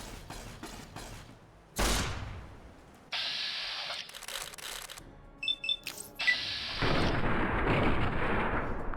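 Gunfire and heavy blasts in the Fallout Tale of Two Wastelands video game, rapid crackling shots, booming explosions and sustained bursts of fire at varying distances, loud and chaotic throughout with no talk.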